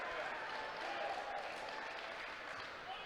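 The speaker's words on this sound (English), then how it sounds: "big round of applause from the crowd" Crowd applause at an NBL Canada Finals basketball game between the Halifax Hurricanes and London Lightning, a steady wash of clapping filling the arena for the full stretch without a break.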